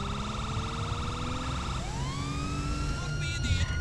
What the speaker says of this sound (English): we're gonna go ahead and cut the sirens